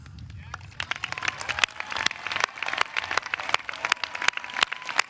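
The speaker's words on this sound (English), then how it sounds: "I'd like to ask Kylie and Ahsan to stand so we can collectively thank you with our applause." A commencement audience at a college graduation ceremony applauds, many sharp claps crackling densely and steadily for several seconds, close and fairly loud, with a faint low murmur at the start.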